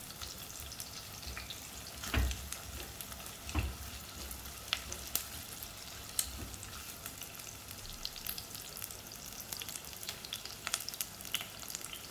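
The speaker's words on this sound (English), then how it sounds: "when the oil is hot, put in the onions and the shallot" Cut onion and shallot frying in hot oil for a Malaysian fish soup, a quiet steady crackle and hiss with occasional sharper pops and a couple of louder clunks early on.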